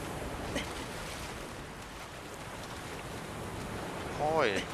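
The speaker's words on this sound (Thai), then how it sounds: "โอ้ยคลื่นมันแรง" Rough ocean surf in the Shadow of the Colossus video game, a steady broad wash of crashing waves and water noise throughout, with a brief voice near the end.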